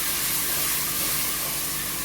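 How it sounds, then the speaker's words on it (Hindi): Spices roasting in a pan as a base for a keema dish, heard as a constant, close sizzling hiss with an even, noisy texture and no speech. "तीन से 4 मिनट आप इसको भूनेंगे ताकि इनका जो कच्चापन है सारा ख़त्म हो जाए।"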